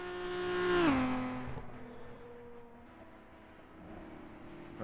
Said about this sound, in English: Two litre car sounding like an angry bee.